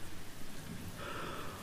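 Rain in The Walking Dead video game, a soft continuous patter in the background, joined partway through by a brighter hissing layer that holds steady to the end.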